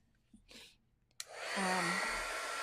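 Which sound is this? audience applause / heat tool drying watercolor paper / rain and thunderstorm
heat tool drying watercolor paper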